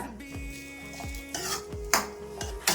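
A spoon scrapes and stirs cooked fried rice with soy sauce and spring onion in a pan, several rhythmic scraping strokes up close over a faint sizzle.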